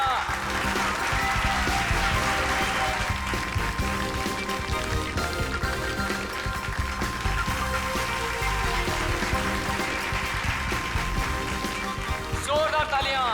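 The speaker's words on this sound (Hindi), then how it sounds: "जोरदार तालियां" A crowd at a magic show applauds a magician in steady clapping that lasts throughout, with voices mixed in beneath it.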